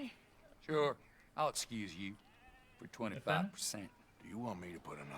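Sheep bleating in the Red Dead Redemption 2 video game, several close, loud, wavering bleats in quick succession, some overlapping, with short quiet gaps between calls.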